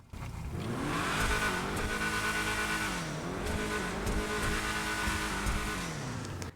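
Dominator GTT car in GTA Online revving and accelerating through rising and falling engine pitch, with gear changes and occasional tire squeal, heard continuously and fairly quiet with no talk.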